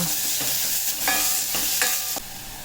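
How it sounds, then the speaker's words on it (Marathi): Garlic and onion sizzle in a pan while being stirred, with steady frying hiss and several scraping strokes of a spoon. "जास्त आपल्याला भाजायचं नाही आहे लसूण कांदा"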